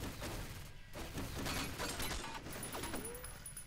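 Turret gunfire in the shooter game F.E.A.R. Perseus Mandate, dense rattling bursts of automatic fire with crackling impacts, fairly faint and continuous over a few seconds.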